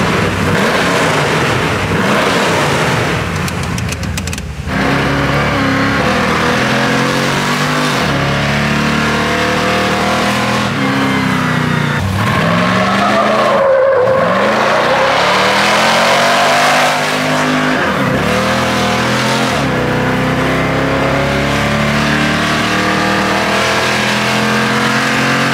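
Chevy Colorado prerunner truck built by Roadster Shop accelerating hard from inside the cab, its engine roaring and climbing through the gears in repeated rising sweeps, loud and continuous, with no talk.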